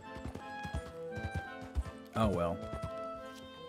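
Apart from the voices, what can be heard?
horse hooves clip-clopping in Red Dead video game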